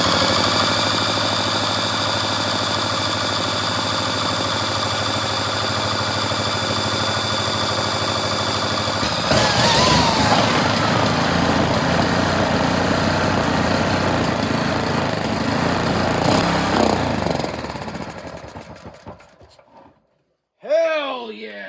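A repaired Honda GX160 small engine runs loudly and steadily up close, its pitch shifting partway through before it sputters out. A voice is heard at the very end.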